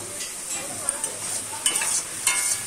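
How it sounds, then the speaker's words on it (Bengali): Ridge gourd chorchori cooking in a pan, with a soft continuous sizzle and faint scraping strokes of stirring at a few points, fairly quiet and close. "ঝিঙের চচ্চড়ি হচ্ছে।"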